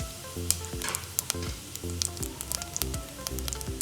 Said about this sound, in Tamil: இப்போ ஒரு குக்கரில் 3 டேபிள் ஸ்பூன் அளவுக்கு எண்ணெய் விட்டுட்டு ஜீரகம் சேர்த்துக்கலாம்